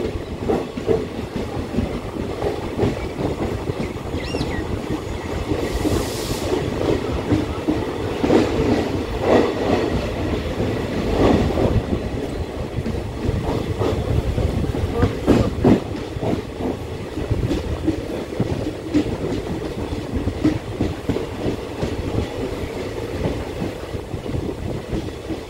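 An express train runs between stations, a steady loud rumble with rhythmic clickety-clack from the wheels on the rails and occasional hiss, heard from inside the carriage throughout with no talk.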